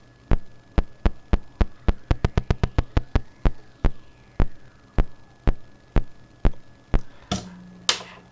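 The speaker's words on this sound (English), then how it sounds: "This module has a built-in LFO with a pulsarizer, and it creates the beat." A synth module's built-in LFO pulsarizer chops a guitar signal into a steady rhythmic beat of sharp pulses. The pulses briefly speed up, then slow again, and a couple of noisy bursts come near the end. No one speaks.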